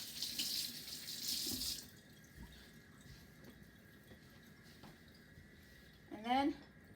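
Tap water runs into a kitchen sink for about two seconds, hissing fairly loudly, then cuts off, leaving a quiet room with faint clinks and a voice briefly speaking near the end.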